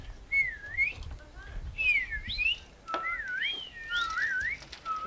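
Several people at a nature center whistle bird-call imitations outdoors, a series of rising and falling two-note whistles one after another, clear and fairly loud over light crowd murmur.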